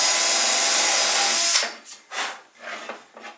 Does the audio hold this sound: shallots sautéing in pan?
no